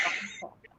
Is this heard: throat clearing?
yes